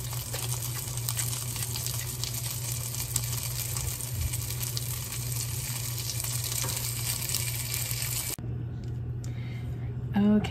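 Mushrooms sizzle in butter with herbs and green onion over medium-high heat, a dense continuous hiss and crackle with a low steady hum underneath that cuts out abruptly near the end.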